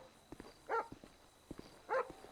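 A police dog on patrol gives two short, faint barks spaced about a second apart, with soft scuffling and thumps between them, heard alone at a distance.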